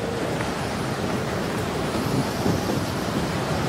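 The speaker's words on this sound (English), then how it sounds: "The wind was picking up snow powder as it whipped north across the summit, making it impossible to inflate the glider" Strong wind at the summit of Mount Everest, whipping snow powder north across the top: a dense, steady roar of blowing air, loud and constant throughout with no voices.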